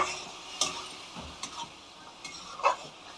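A spice paste is stirred and roasted in a pan over a medium flame, with a faint, low sizzle broken by a few soft scrapes and clicks of the spoon.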